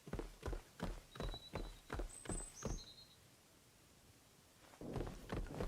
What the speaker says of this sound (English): That's just the noise of me climbing the ladder.